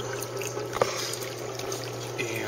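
Water trickles steadily into an aquaponics tank fitted with a bell siphon, giving a continuous close, low gurgle with one brief splash partway through.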